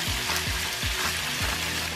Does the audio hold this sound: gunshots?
no